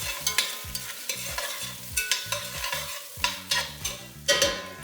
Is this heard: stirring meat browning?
yes